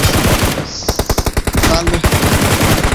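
Gunfire in BGMI (PUBG Mobile) crackles in rapid automatic bursts, sharp and fairly loud, with a brief pause before the shots resume in a steady rattling stream.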